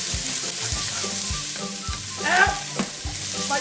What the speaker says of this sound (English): when the vegetables hit, cook nice on the outside, you wanna hear that sizzle